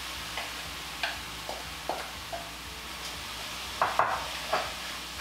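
Potato patties cooking in a heated skillet: a soft, low sizzle runs throughout, punctuated by a series of light taps and clinks as patties are set down and spread in the pan, close and fairly quiet.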